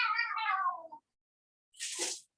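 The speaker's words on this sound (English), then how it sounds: "That's my cat's fighting." One cat lets out a long, wavering yowl, then after a brief silence another harsh, hissing cry follows, close and loud.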